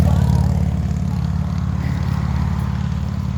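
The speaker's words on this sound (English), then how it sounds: "So sorry for the car noise." Car traffic on a busy road gives a steady, loud rumble with a low engine drone that holds for the whole stretch, and no one speaks over it.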